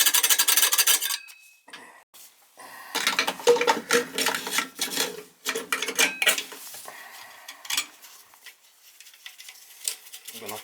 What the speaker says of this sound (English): Clean the retention head with a long screwdriver.